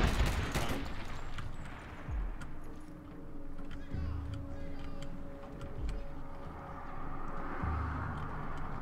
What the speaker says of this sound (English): Oh, I'm shooting.